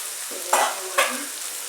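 Shawarma sizzling in a covered pan, with two sharp bursts of stirring and frying hiss over a steady low crackle, no voices.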